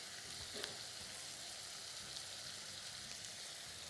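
Broken green chillies sautéing in hot oil with cowpeas and pumpkin, a faint, even, continuous sizzle with an occasional soft stir and no voices.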